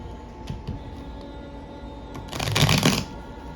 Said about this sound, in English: that's a good shuffle right there.